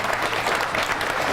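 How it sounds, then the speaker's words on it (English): A crowd claps for a performer leaving the stage at a 1991 Goodguys car show, a short burst of continuous, fairly loud applause with no voices over it. "big round of applause for Norm"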